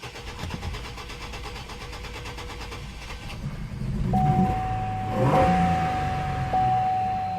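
A car engine cranks and catches after its throttle body has been cleaned, starting with a rough, struggling turnover before settling into a steady, close-up idle with a faint whine running over it.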